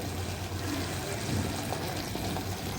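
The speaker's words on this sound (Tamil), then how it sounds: "இப்போ இதில் கொஞ்சமாக தண்ணி ஊற்றிக்கலாம்" Steady rush of water pouring continuously into a cooking pan for chicken gravy, close and fairly loud, with no talking.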